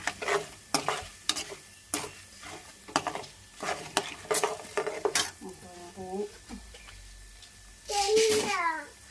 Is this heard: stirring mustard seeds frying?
yes